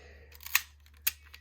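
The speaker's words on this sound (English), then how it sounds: "the shutter can be operated whenever the shutter spring is primed, and that is done by sliding the shutter cover open" Sliding open the shutter cover of a 110 film camera to prime the shutter spring gives two sharp, close mechanical clicks about half a second apart, with a fainter tick after, over a quiet low hum.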